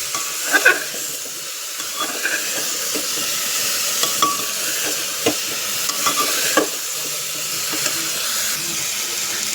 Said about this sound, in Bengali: এবার আমি আলুটা এতে দিয়ে দেবো। তো আলুটা দেবার পর আমি একটু ভালো করে কষিয়ে নেব।